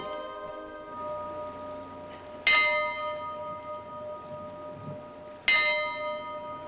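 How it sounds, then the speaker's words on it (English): Two loud church bell strikes tolling, each ringing out and slowly fading, with a lingering hum between them in an otherwise quiet setting. "Even as the bells tolled here today"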